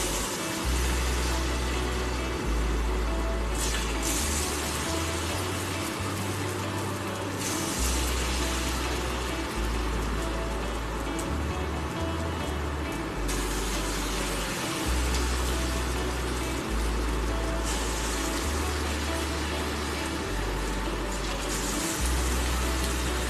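Wheat ponda batter frying in hot oil, a constant dense sizzle and bubbling that fills the stretch, with a low intermittent hum underneath and no talking.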